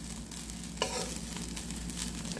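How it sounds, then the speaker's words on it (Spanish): Finely chopped carrot is stirred into a hot frying pan of Dominican locrio with raisins, giving a steady, close sizzle and a quick scrape of the spoon. "le agregamos un poquito de zanahoria, que también ya la teníamos picadita pequeña. Lo removemos."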